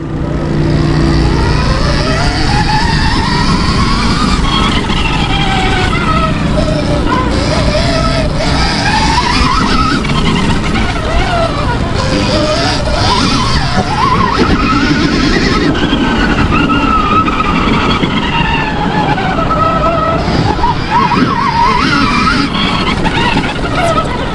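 A Stark Varg electric dirt bike ridden on test, giving a loud continuous electric motor whine that rises and falls with throttle under heavy wind and riding noise, with no pauses.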